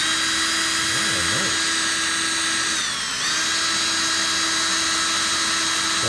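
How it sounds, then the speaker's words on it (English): A Ryobi power drill spins a Pinewood Derby car axle for sanding, whining steadily at high speed for several seconds, briefly dipping in pitch midway before settling back into a constant hum. "Sanding the axles to make them nice and smooth?"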